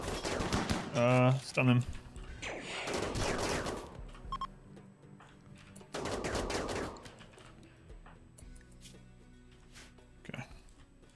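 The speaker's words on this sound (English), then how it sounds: "Chain shotguns are no joke" Chain shotguns fire in the RimWorld video game, loud clattering bursts of rapid shots in a couple of clusters, with a voice talking between and over them.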